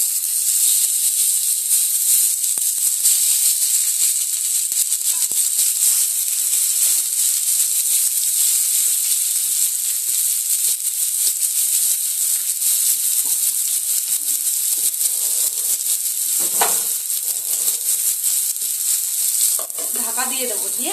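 Shrimp paturi wrapped in pumpkin leaves sizzling in a frying pan, a loud steady hiss of hot oil throughout with brief crackles and pops near the end.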